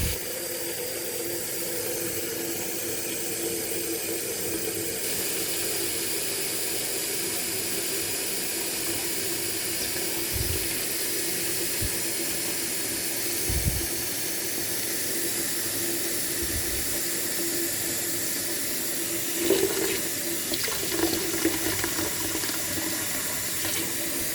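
Hot water runs steadily from a kitchen tap into a pot on the stove, a constant broadband rushing stream lasting throughout, with a few faint knocks and a slight splashy shift near the end.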